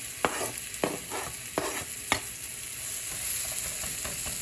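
Sliced onions going into a hot pan, with four sharp scraping or stirring clacks spaced about half a second apart over a steady, bright sizzle.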